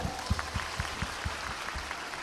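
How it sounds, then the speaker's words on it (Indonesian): A small audience claps for three children, a short run of separate, evenly spaced claps, fairly faint and close. "Tepuk tangan untuk mereka bertiga."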